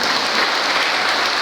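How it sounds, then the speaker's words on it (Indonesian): Church congregation at a Sunday morning service claps loudly together, a thick, uniform wash of applause filling the whole short stretch without pause or speech. "Tepuk tangan dulu buat Tuhan Yesus"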